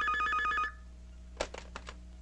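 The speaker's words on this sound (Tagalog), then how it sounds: "Jerry, telepono" A telephone bell rings loudly in a repeating trill from the start, then stops abruptly, leaving a quiet room with a few faint handling clicks.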